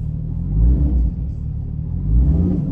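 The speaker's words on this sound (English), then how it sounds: "A few gentle revs." A Porsche Cayman 981 with a sports exhaust, valves open, gives a few gentle revs heard from inside the cabin: a deep, steady engine rumble that swells twice and eases back between them.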